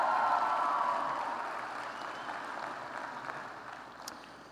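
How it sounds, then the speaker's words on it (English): Applause from a crowd, strongest at the start and gradually fading, with a faint murmur underneath. "There's another round of applause right there"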